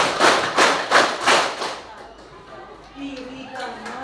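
Junior high scout trainees repeat a five-clap pattern together at a school orientation, five sharp, evenly spaced group claps ringing out loud and close before a voice takes over.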